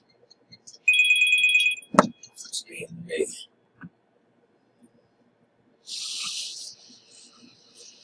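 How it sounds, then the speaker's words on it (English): A phone ringtone chirps briefly during a phone repair, a high repeating electronic tone lasting about a second, followed by a few clicks and taps, with a second burst of hissy bright noise later. "Hey, phone call."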